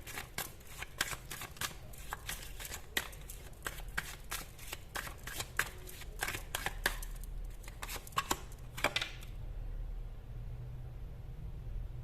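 Tarot cards shuffled and drawn from a deck in close, dry riffles and flicks that come in quick bursts for several seconds, then stop, leaving a quiet hiss.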